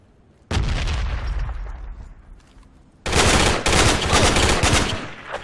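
Video game combat at a gas station: a grenade blast bursts loudly, followed by a dense, sustained stretch of rapid gunfire, all close and intense with no clear speech.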